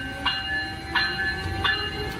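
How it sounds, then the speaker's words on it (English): An Amtrak train passes close by with a steady, loud rumbling tone, marked by three evenly spaced rhythmic clanks or chimes about two-thirds of a second apart. "That's definitely Amtrak."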